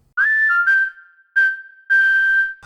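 A clear synthesized whistle from a virtual whistle instrument plays a short melody of four sustained notes, the first with a slight upward slide, separated by brief silences.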